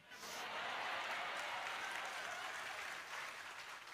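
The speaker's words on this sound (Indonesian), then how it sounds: "Jangan tepuk tangan dulu, sedih nanti ceritanya." Audience clapping at an Indonesian religious lecture, a steady broadband wash of applause that rises in the first moments and holds evenly for about four seconds at moderate distance, with no voice over it.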